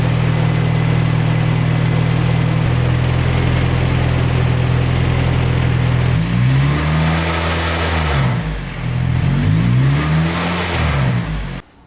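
K24-swapped Nissan Cefiro engine holding a steady idle, then revving up and down in repeated throttle blips near the end, loud and close with no one talking.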